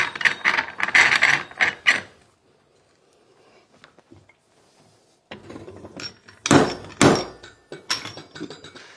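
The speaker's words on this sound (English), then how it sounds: "We simply screw this into the bracket below, screw down to the paver" A threaded post mount is screwed down into a metal bracket beneath a paver, giving bursts of rapid ratcheting, clicking metal turns, loud and close, split by a quiet pause in the middle.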